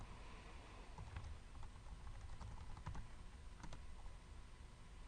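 Quiet, steady typing on a computer keyboard, with soft key clicks pattering continuously and no voices.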